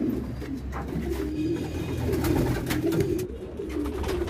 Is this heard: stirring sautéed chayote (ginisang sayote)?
no